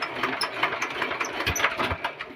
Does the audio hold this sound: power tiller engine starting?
yes